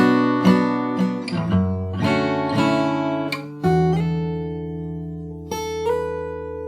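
Guitar playing the closing phrase of the chorus of a song from Cyberpunk 2077, picked notes with slides ringing out clearly, close and solo, ending on sustained tones.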